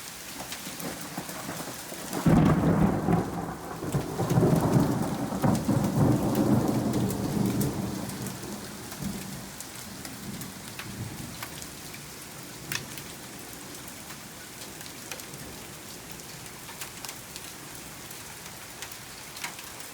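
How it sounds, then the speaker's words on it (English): A hailstorm with thunder and rain hits outside a house: a sudden close thunderclap rolls into a long fading rumble, then steady rain and hail patter on with scattered sharp ticks. "There was hail at our house."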